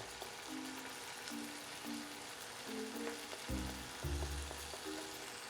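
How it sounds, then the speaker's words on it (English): Diced potato sautés in rendered pancetta fat, giving a quiet, steady sizzle with faint stirring and scraping sounds now and then. "Sautéing with the pancetta will increase the flavor of the potato."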